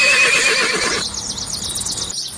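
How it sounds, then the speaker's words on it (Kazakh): Single horse neighing, a loud close whinny with a shaky descending pitch, followed by a brief high snorting trail. "Жылқы, жылқы"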